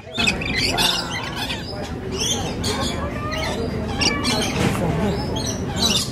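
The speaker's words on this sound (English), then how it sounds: "Look at the birdies there." Birds at an aquarium squawking loudly and repeatedly in harsh, overlapping calls, close by, amid crowd chatter and people talking.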